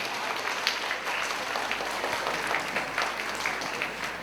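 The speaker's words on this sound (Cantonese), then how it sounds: "好，再次俾掌聲得獎嘅同學。" Steady applause from an audience at a school award ceremony for kindergarten prizewinners, a dense, even patter of many hands that holds at moderate loudness for the whole stretch with no talking over it.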